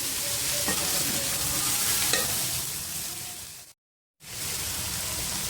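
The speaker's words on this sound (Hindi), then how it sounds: "एक से 2 मिनट तक मैं इनको फ्राई करूँगी।" Vegetables and chicken for fried rice sizzle continuously in a hot pan with a few stirring clicks, cut by a brief total silence before the frying resumes.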